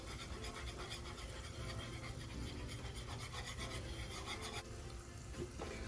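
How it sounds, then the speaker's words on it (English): A whisk scrapes rapidly around a bowl while mixing a sauce for chicken piccata, producing a continuous rasping, scratchy stir heard close up and alone. "I'm gonna whisk it once more"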